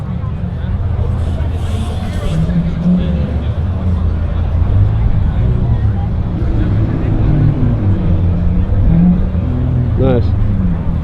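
Car exhausts rumble continuously at a busy supercar Saturday car meet, a steady loud engine drone with occasional revs, under crowd chatter and nearby voices.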